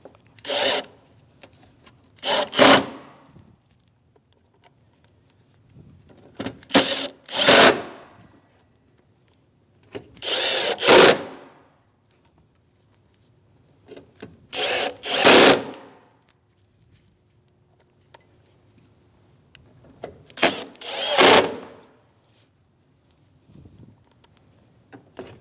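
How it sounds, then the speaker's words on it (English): A power drill with a T15 Torx bit drives mounting screws into the front bumper bracket of a Chevrolet Malibu, heard as five or six short, loud buzzing bursts separated by pauses of a few seconds. "Now we can put our mounting screws in. This is for a T15 Torx bit."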